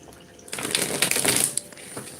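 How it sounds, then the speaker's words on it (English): A brisk riffle of tarot cards being shuffled close by, a soft papery flutter lasting about a second over faint background noise. "Shuffle these cards and clean this space."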